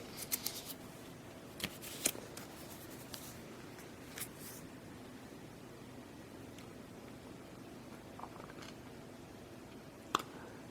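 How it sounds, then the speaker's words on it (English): Playing cards are drawn in a Middle-Earth: The Wizards card game, a few faint, sharp card snaps and slides scattered over a quiet room. "So I'm now allowed to draw 2 more cards."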